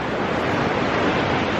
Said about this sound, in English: Creek, really running right now. See just how much water there is.